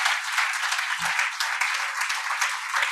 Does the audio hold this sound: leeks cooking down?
no